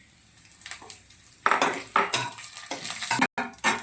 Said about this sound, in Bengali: ওই তেলের মধ্যেই আমি জিরে, শুকনো লঙ্কা, তেজপাতা ফোড়ন দিয়ে দিলাম